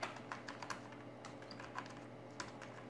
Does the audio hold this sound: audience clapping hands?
no